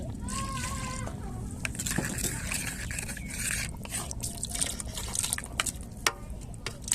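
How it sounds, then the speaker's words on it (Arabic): Water is poured into a cooking pot over an open fire outdoors by a tent, heard as splashing and trickling with scattered drips and clatter, while someone talks over it. "ديري شويه ميه هان."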